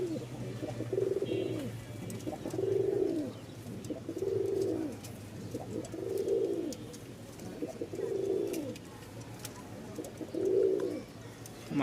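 Pigeons, a Rajshahi breeding pair kept for sale, coo in slow repeated phrases about every two seconds, close by and steady over a light background hum, with no voices.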